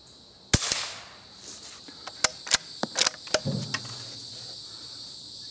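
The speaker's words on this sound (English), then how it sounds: "let's go ahead and start shooting. I'm going to shoot at the top target on the left." Several quiet CCI .22 rimfire rifle shots fired from a clean barrel at a target: sharp, faint cracks spaced irregularly over a few seconds, with a steady insect-like hiss in the background.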